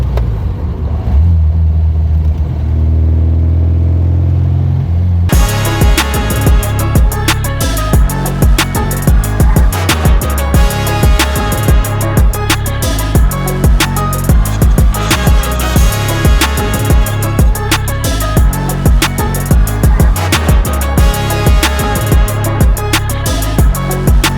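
A 1978 MGB GT's low engine idle gives way to a loud, rough, throbbing exhaust roar as the car drives, sustained and rumbling throughout.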